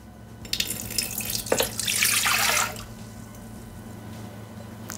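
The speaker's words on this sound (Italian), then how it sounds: "Iniziamo la ricetta mettendo all'interno del boccale l'acqua." Water poured into a Thermomix (Bimby) jug to start pizza-dough bomboloni: a close, fairly loud splashing pour lasting about two seconds, then it stops, leaving a quiet kitchen background.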